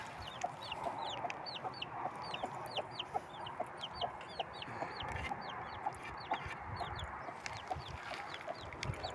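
Hens cluck repeatedly in a busy, steady chorus around a nest of eggs where two chicks have hatched, with occasional sharper calls and chirps from the chicks, fairly close by.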